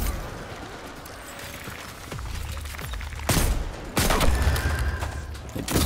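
Gunfire in the video game Destiny during a Nightfall strike against Acolytes and Knights, with sharp loud bursts of shots breaking out repeatedly over a low background rumble and growing denser toward the end.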